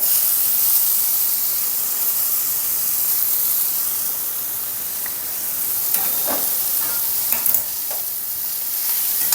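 Ghevda bean vegetable being stir-fried with ground niger seed powder, giving a steady close sizzle and hiss with a few scraping stirs of the spatula near the end; no voices.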